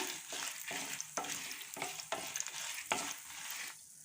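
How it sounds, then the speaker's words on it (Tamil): Dried red chillies and coriander seeds frying in hot oil, a steady bright sizzle broken by several sharp scrapes and stirs at irregular intervals, close by and with no talking. "தனியா பொரிஞ்சதும் தேவையான அளவு காஞ்ச மிளகாய், உங்கள் காரம் எவ்வளவோ அந்த அளவுக்கு காஞ்ச மிளகாய் ஆட் பண்ணிக்கோங்க"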